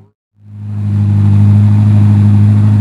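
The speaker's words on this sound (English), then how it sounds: "The motor startup, that sounds" A hybrid car's engine cranks and catches after a brief silence, then settles into a loud, steady low hum close by, with no talking.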